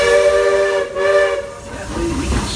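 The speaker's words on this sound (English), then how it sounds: "please wait until the train has come to a complete stop" The Walt Disney World Railroad steam locomotive Roy O. Disney at night, letting off a loud whistling hiss of steam near at hand, the tone cutting out briefly and a lower wavering whistle sounding toward the end.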